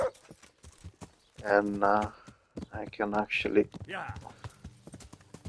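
A horse in the video game Kingdom Come: Deliverance clip-clops along, its hoof beats running steadily beneath someone talking over them.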